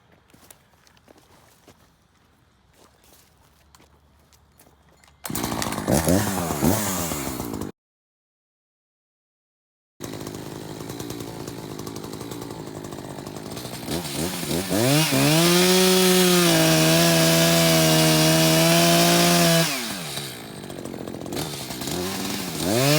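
An Echo CS-590 Timber Wolf chainsaw is heard close up: quiet idling, a loud burst, a brief silence, then a sustained high-revving whine as it cuts through hardwood such as locust and maple, with pitch rising and falling under load.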